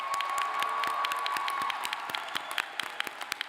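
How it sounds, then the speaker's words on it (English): A graduation audience at a university law school ceremony cheers and claps loudly in a large hall, a sustained wash of applause with scattered whoops that thins toward the end into individual claps. "Let's get some cheering up in here."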